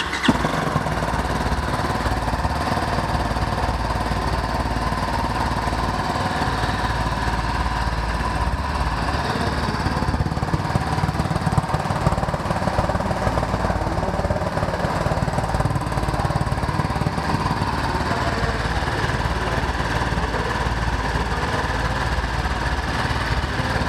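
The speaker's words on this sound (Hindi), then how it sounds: "तो मैं एक बार पहले एक बार बाइक का साउंड आप लोगों को सुना देता हूँ" A BMW G310GS BS6 motorcycle's single-cylinder engine runs continuously up close, a loud, steady, rough rumble with a slight rise in revs midway, alone with no talk.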